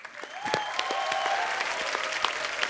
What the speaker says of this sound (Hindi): शिल्पा और राजबाजी के लिए जोरदार तालियां